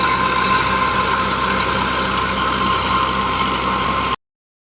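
An old Massey 240 tractor runs during wheat threshing in the field, its engine giving a loud, steady, droning hum with a constant tone for about four seconds before cutting off abruptly.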